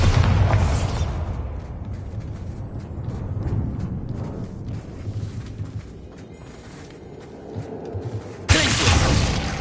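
A Bombarda blasting spell goes off in the Hogwarts Legacy video game: a loud, broad burst opens the clip, a rumbling tail follows, and a second sharp blast hits near the end.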